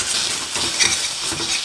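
Egg fry stirred on a low flame, a soft steady sizzle broken by repeated light scrapes and clinks of a spatula against the pan, close and without speech.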